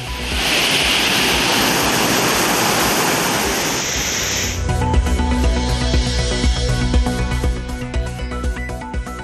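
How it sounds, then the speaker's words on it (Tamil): Courtallam waterfalls in flood, a loud continuous roar of rushing water that cuts off abruptly partway through, giving way to quieter tonal background sound. "குற்றால அருவிகளில் 2வது நாளாக தொடரக்கூடிய வெள்ளப்பெருக்கு"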